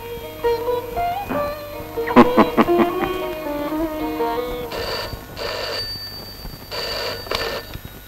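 An indoor telephone bell rings in a Malayalam film scene, repeated ringing bursts following a few earlier tonal sounds, fairly clear and unaccompanied by talk.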